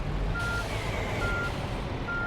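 A truck reversing in the On The Road Truck Simulator video game, evenly spaced electronic backup beeps over a low steady engine rumble.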